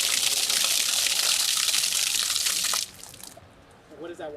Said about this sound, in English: when the water comes out, it's really pressurized